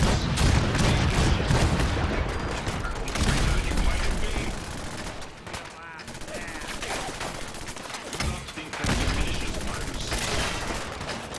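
Heavy broadside gunfire in Fallout 4, loud overlapping booming blasts and volleys that roll on with short lulls, with voices occasionally mixed into the din.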